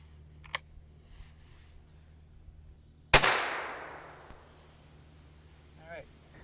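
A gun fired at targets near a cabin in November: one sharp, loud shot cracks out midway and trails off in a long, fading echo, with a faint click earlier and quiet surroundings otherwise.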